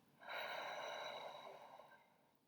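A single long, soft exhale by a person doing a guided mindfulness breathing exercise for children, steady and close, with no talking over it.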